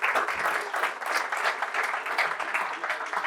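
An audience at a university event applauds a panel of three speakers, a steady burst of many hands clapping together that fills the room without pause and stays at an even level throughout.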